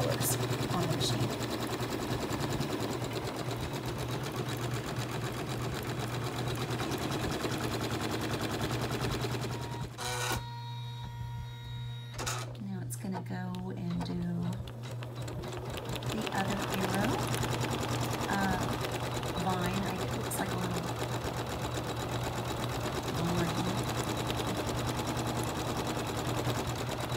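Embroidery machine stitching a design onto a denim jacket, a steady rapid mechanical chatter with a constant motor hum that pauses briefly midway and then resumes, fairly close and moderately loud.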